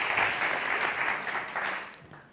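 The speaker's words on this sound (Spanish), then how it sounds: "Vamos a dar un aplauso" An audience at a culinary startup prize event breaks into dense, sustained applause, a thick wash of clapping that fades toward the end.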